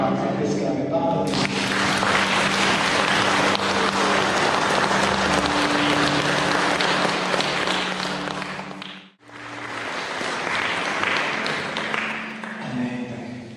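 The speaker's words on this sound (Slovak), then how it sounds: "Tak zatleskáme Pánovi." Church congregation claps along during a praise prayer service, a full, close wash of applause over sustained organ or keyboard chords, briefly dropping out near the end before resuming.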